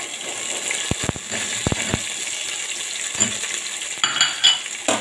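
Onion fries with garlic cloves and chili paste in a pan, giving a steady moderate sizzle broken by a few sharp clinks of a utensil stirring, with no talking.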